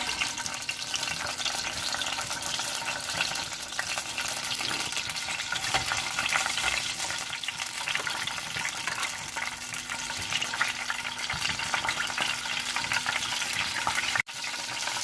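Cumin seeds and fenugreek roast in a hot pan for a Pakistani chicken handi, giving off a steady, dense sizzle and crackle that stays even throughout, with one sharp click near the end and no talking.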